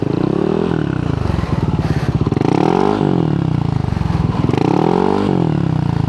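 A Yamaha NMAX fitted with a VMAX Racing Onyx aftermarket muffler revs repeatedly toward 6,000 RPM, its exhaust rising and falling in three loud, rhythmic blips at close range, with no talking.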